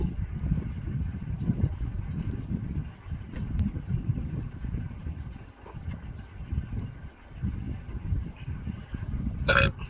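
A single burp, a low rumbling belch that swells and fades in several pulses across the stretch, fairly loud and close, with no one speaking.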